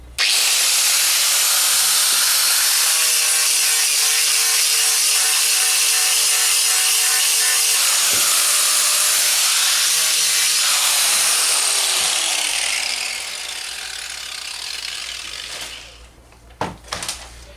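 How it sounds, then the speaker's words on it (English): Angle grinder fitted with a flap wheel polishing metal armour, a loud, steady abrasive roar that holds close for about twelve seconds, then fades and winds down, ending in a few sharp clattering knocks. "you can see in places where I've passed the grinder over"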